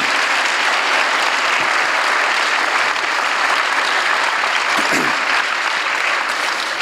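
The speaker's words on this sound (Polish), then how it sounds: "Te oklaski są bardzo wymowne." An audience applauds after a talk at a discussion event, with steady, dense clapping from a large crowd sustained throughout.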